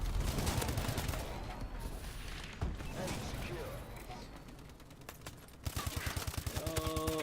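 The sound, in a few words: gunfire from a silenced weapon in Call of Duty Advanced Warfare video game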